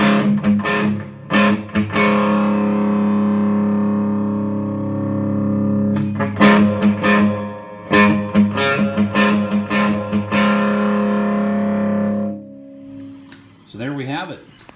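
An electric guitar plays through a Fender Bassbreaker 45 combo amp on a high gain setting with a reverb pedal in front, loud sustained distorted chords and stabs ringing out into a washy reverb tail, followed by brief talking.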